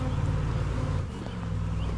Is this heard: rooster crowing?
no